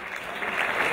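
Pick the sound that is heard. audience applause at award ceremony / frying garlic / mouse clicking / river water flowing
audience applause at award ceremony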